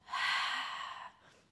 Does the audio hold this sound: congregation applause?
no